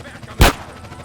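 A single sharp gunshot from a firearm in the GTA San Andreas Definitive Edition video game, loud and abrupt, cutting above a quiet in-game background.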